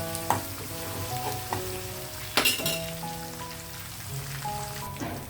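Coriander and other tempering ingredients fry in hot oil for pulihora, giving a steady, close crackling sizzle with a few sharper pops and utensil clinks, and no voices.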